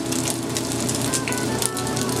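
Sage leaves frying in a bacon and butter sauce, a steady, bright sizzle and crackle like light rain, continuous and fairly loud with a few sharper pops.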